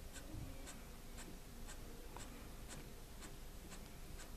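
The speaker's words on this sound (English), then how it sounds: "Then to add this shading or hatching, and I'm just doing it that way on these." A pen or pencil hatches lines on paper for an isometric block drawing, giving quick, evenly spaced scratchy strokes repeating about twice a second, close and quiet, with no talk.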